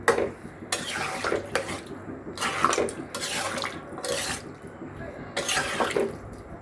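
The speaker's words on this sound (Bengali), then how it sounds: "মূলা কষানো শেষ, এবার জল দিয়ে দিচ্ছি।" Water poured into a pan of sautéed radish for a rohu fish curry, several close, splashy bursts of pouring with brief pauses between them.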